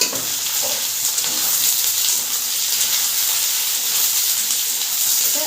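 Chopped onion and teasel gourd fry in hot oil with black cumin, giving a loud, steady, hissing sizzle that runs unbroken throughout.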